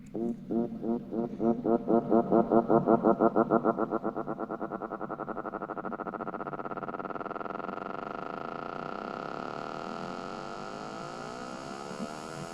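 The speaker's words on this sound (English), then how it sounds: "I've added a MIDI effect rack and an ARP, and then I've modulated the ARP" Rapid synth arpeggio from a modulated arpeggiator with auto filter, pulsing in fast repeated notes, its filter sweeping and the pattern smearing into a steady wash that slowly thins and brightens, in a Latin house track.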